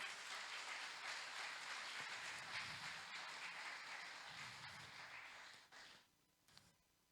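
A church congregation at a Spanish-language morning service claps, making a dense, continuous wash of applause that fades out near the end.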